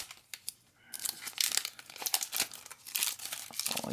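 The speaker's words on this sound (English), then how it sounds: "We make sure we take this plastic off." Crinkly plastic wrap being peeled off an Echo Dot power brick, close and fairly quiet, with a burst of crackling and tearing that starts after a near-silent second and keeps rustling to the end.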